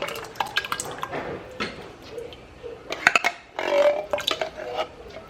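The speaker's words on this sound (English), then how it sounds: "We're going to stir this up really well." A spoon stirs a pot of jambalaya soup with crushed tomato, giving wet sloshing and metallic clinks and scrapes against the pot in uneven bursts, close, with no talking.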